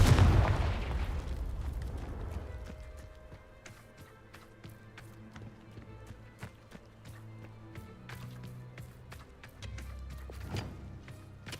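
A Confringo spell explosion in Hogwarts Legacy bursts loudly at the start, then its rumble decays into a softer spread of crackles and pops, with another low swell near the end.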